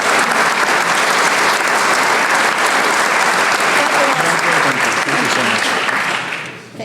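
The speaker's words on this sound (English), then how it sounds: "give her a round of applause" An audience at a small business recognition awards ceremony breaks into loud, sustained applause that fills the room for several seconds before tapering off at the end, with faint voices mixed in.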